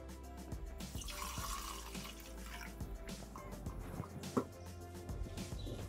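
Water poured into a Thermomix bowl while making paella, a splashing liquid stream with scattered knocks and clinks of the bowl, close and moderately loud.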